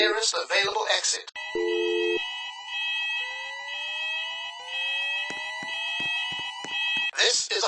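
A pulled fire alarm in a shopping mall sounds steady electronic tones with repeating pulses, loud and sustained, with brief bursts of louder noise at the start and end.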